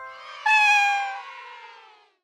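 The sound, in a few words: cat meowing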